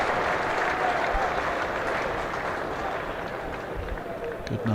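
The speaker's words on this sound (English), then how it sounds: "listen to the cheer" A large crowd at Lord's cheers and applauds during a Middlesex v Yorkshire one-day cup cricket match, a broad, sustained roar from around 5,000 spectators that slowly eases.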